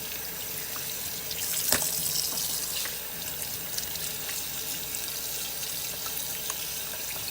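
Tap water runs steadily into a sink as vegetables are rinsed under it, a constant moderate splashing stream with a brief louder splash early on, no talking.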